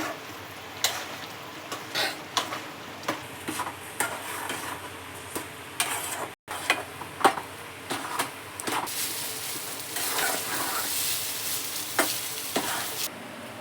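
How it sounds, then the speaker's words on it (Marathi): Upma is stirred in a hot pan until dry, with repeated scraping strokes of a spoon over a low sizzle, steady and close throughout, briefly cut off once midway; no voices. "आता आपण पूर्ण चार पाच मिनटं असे हलवून घेणार आहे पूर्ण सुक्क होईपर्यंत"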